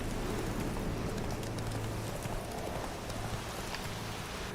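Roach, the horse in The Witcher 3, trotting with steady clip-clop hoofbeats, heard faintly over a constant hissing, rain-like ambience with no talking.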